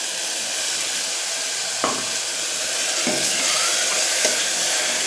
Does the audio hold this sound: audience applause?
no